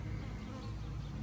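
Honeybees swarm around a queen cage inside a hive, a dense, continuous close-up buzz at constant loudness with no pauses.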